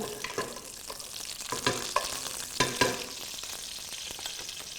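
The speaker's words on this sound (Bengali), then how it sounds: "আমরা নিয়ে নিচ্ছি উডেন স্পুন, এটাকে নাইসলি ফ্রাই করব।" Whole spices such as cinnamon, cardamom and bay leaf fry in hot oil, sizzling steadily while a wooden spoon scrapes and stirs in several irregular, crackly bursts, close and moderately quiet with no talk.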